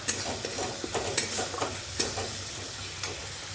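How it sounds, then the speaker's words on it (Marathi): Chopped onion and tomato fry in a pan for policha chivda, a Marathi crumbled-flatbread snack, with a steady close sizzle broken by repeated scraping stirs of a spatula. No one speaks. "बघा आपला कांदा टोमॅटो सगळं मस्त झालेला आहे"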